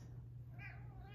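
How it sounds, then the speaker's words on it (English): A house cat meows once behind a closed door, a short, fairly faint call over a steady low hum. "my other cat who gets FOMO when we close the door"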